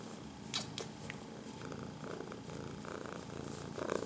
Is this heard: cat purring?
yes